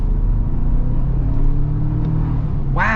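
A 2025 Toyota 4Runner TRD Off-Road Hybrid accelerates with a deep, loud, steady engine rumble heard from inside the cabin, and a brief voice comes in at the very end.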